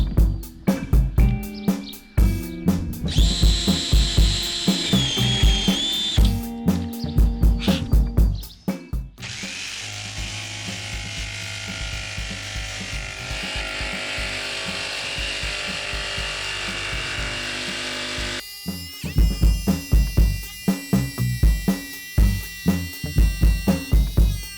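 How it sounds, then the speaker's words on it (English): Jigsaw cutting a hole through a plastic roof panel of a VW T5 van for a roof vent, loud buzzing bursts with short pauses and a longer steady run in the middle, close up. "Let's get a pilot hole done and let's start jigging away."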